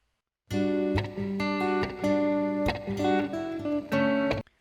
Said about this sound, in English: That part is doubled on the opposite side by the acoustic guitar.